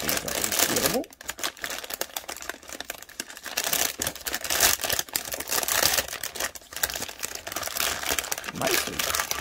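Plastic resealable bags crinkle and rustle with irregular bursts of handling noise, close and fairly quiet, during a scale model kit build.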